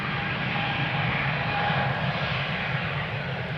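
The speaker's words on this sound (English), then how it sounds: "Whale sounds emanating from the E2's engines spooling up" KLM Embraer E2 jet engines spooling up at Amsterdam Schiphol, a steady loud roar with faint tonal whines above it, sustained throughout.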